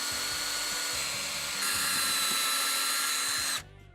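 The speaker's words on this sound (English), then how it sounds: "I'm going to pre-drill on both sides." A power drill pre-drills holes through the wood of a standing rolling planter, whining steadily close by for about three and a half seconds, rising in pitch midway, then cutting off into quiet.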